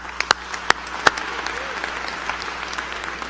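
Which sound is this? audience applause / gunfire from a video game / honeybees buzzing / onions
audience applause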